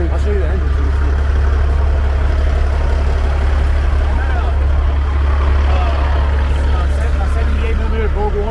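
A custom show truck's engine idles with a loud, constant low rumble that holds steady throughout, while someone talks over it.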